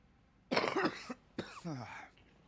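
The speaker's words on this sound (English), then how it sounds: "As she starts coughing up a lung." A female character in Mass Effect 2 coughs hard in a couple of raspy, harsh bursts, close and loud, with a brief gap between them and no other sound around.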